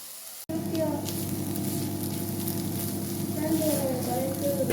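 Drumstick thoran, a Kerala stir-fry, sizzles steadily in a covered pan after a sharp lid clack, a continuous close frying hiss.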